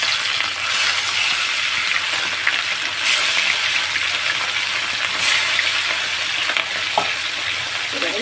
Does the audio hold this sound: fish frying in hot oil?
yes